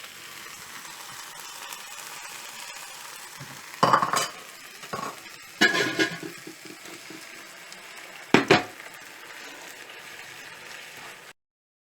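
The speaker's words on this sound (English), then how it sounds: "But before that I'll add the tomatoes and fry it." Tomatoes fry in masala in a pan for stuffed calamari with a steady close sizzle. Three loud bursts of spoon-on-pan stirring and scraping break through it.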